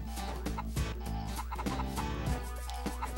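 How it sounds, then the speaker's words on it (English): A chicken in the platform video game Mort the Chicken clucks in a quick series of short, sharp bursts, close and clear over a steady background music bed. "There's a chicken."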